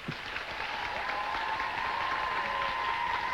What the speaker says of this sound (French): il faudrait vraiment, mais vraiment applaudir ces jeunes filles